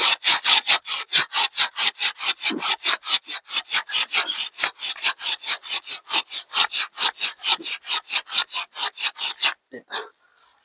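A hand saw, its blade somewhat dull, cuts through a tree trunk near coconut palms in steady back-and-forth rasping strokes, each stroke close and distinct, until the sawing stops and a few faint knocks follow.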